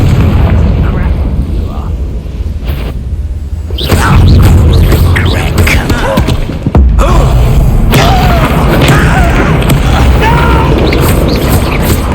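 A Confringo spell blasts in Hogwarts Legacy, a heavy boom-like burst that hits and lingers for seconds beneath dense battle noise and shouted voices.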